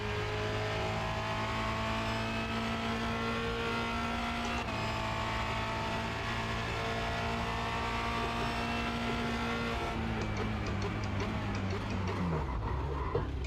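Formula Renault 2.0 race car lapping the Charlotte Motor Speedway Roval, its engine droning steadily at high revs with shifting pitch, then rasping and dropping off as it slows near the end; faint talk sits under the engine.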